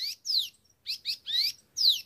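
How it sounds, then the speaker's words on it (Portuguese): A tico-tico-rei-cinza, also called maria-fita, gives an alarm call in the scrub: five sharp, high descending chirps in quick, slightly uneven succession, close and clear against a quiet background. "Canto de alerta."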